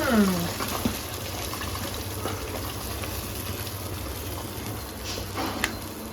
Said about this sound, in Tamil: தண்ணி ஊற்றி நம்ம அப்படியே கழுவி ஊற்றிக்கலாம்